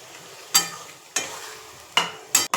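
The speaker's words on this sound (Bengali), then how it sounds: "এবারে একটু অল্প করে জল দিয়ে দেব আর একটু সেদ্ধ হবার জন্য টিন্ডিগুলো" Spoon stirring tindora curry in a pan after a little water is added, four distinct scraping strokes with a soft simmering sizzle between them, close and alone.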